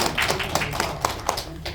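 Audience applause at a Gyeonggi food-service association gathering, heard as a short burst of scattered, sharp hand claps with uneven taps spread across the room at moderate volume.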